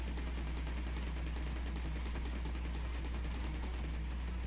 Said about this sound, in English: the ultra laser is just a insta-kill death beam